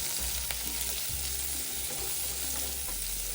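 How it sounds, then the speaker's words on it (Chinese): Fresh shrimp frying in hot oil in a wok, a dense, steady sizzle and crackle that stays loud throughout, with low clatter as they are stirred. "油热后，将预先备好的鲜虾倒入，拉一拉油。"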